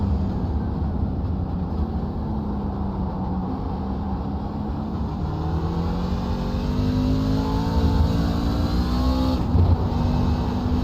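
Race car engine on the Daytona road course in a sim racing game, a steady loud drone with rising and falling gear-shift whine and wheel noise, heard from on board, alone without talk.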